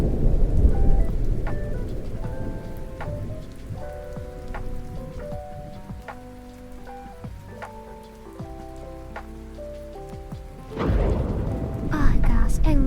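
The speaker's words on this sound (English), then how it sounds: "I love the sound of rain while I'm drawing." Steady rain pattering with thunder rumbling, heavier bursts at the start and near the end, all under soft melodic background music.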